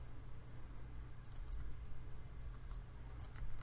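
Faint, scattered key clicks from code being typed on a computer keyboard, a few light taps in short bursts over a low steady hum, no talking.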